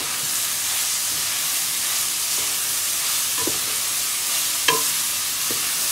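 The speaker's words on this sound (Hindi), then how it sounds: "और फिर इसमें हम अपना अदरक लहसुन का पेस्ट डाल देंगे" Ginger garlic paste sizzles in hot oil in a karahi, a steady broadband frying hiss throughout with a few soft clinks of a spoon stirring near the end.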